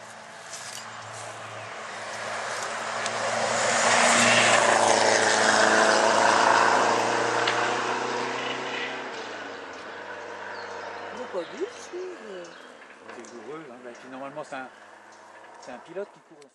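A Renault 5 rally car at a rally event swells from a distance into a loud roar as it passes, then fades away, while spectators talk excitedly over the tail of the sound.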